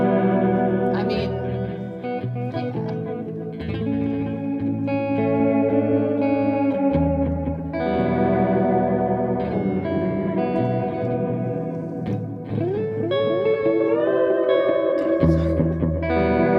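Guitar run through a multi-head delay echo pedal, with chordy notes smeared into repeating echoes and a thick, chorused wash that stays loud and continuous throughout.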